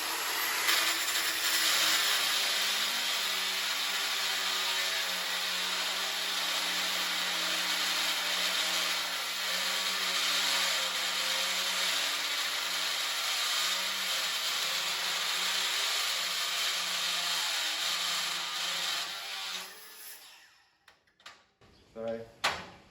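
Festool and Milwaukee power saws cutting through wood, one long steady motor whine with a sustained cutting tone for about twenty seconds that then spins down and stops, followed by a few faint knocks.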